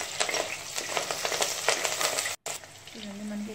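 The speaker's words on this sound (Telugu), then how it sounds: "ఇప్పుడైతే నేను కరివేపాకు అయితే యాడ్ చేసేస్తున్నాను. కరివేపాకు కూడా కొంచెం మనకి ఫ్రై అవ్వాలి." Curry leaves and garlic frying in a pan with onions, giving a steady close sizzle with crackles and a few stirring clinks, heard alone with a brief cutout near the end.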